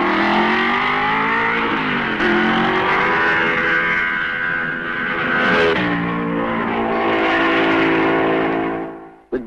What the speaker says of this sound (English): At La Source, Frère Ferrari, Kling Mercedes, Musso Maserati